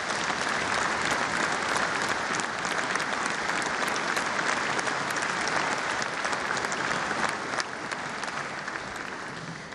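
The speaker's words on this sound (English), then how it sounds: "So please give them a round of applause because it is a big thing." Sustained, dense applause from a large audience filling a chamber during the West Virginia State of the State address, steady and loud throughout and tapering slightly near the end.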